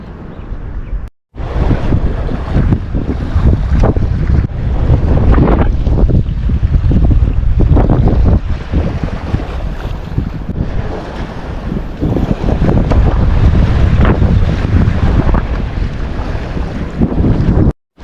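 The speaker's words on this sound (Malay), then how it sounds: "Cuaca berangin" Strong wind roars continuously over the microphone, loud and gusty, on an overcast day while fishing at Ulee Lheue, Banda Aceh, with waves and water sloshing underneath for the whole stretch.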